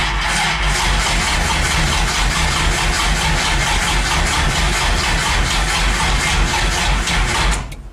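Turbo V6 engine in a Dodge Dakota running steadily after its first start with a new turbo, a loud, continuous idle close by that cuts off abruptly at the end.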